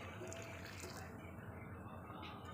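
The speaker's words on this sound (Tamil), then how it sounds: "புளி தண்ணி ஊற்றிக்கிடுவோம்." Tamarind water pours into a simmering fish curry, a soft, steady liquid trickle and splash heard faintly and close throughout.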